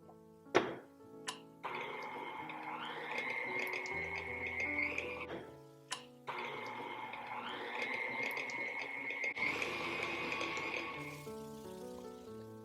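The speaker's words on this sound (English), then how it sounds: "And then I'm going to add my cream cheese. And I'm going to beat this. And I'm using the whisk." Cream cheese is beaten with a whisk for frosting, a buzzing motorized drone in two long bursts with a few knocks between them, close and fairly quiet, with no talk.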